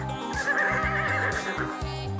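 A horse in a children's doll story gives a loud, close neigh with a rolling, wavering whinny that carries through the whole moment, heard alone without talk.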